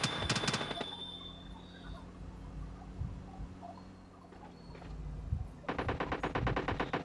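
PUBG Mobile Lite gameplay with rapid bursts of automatic gunfire at the start and again near the end, over a steady low game background.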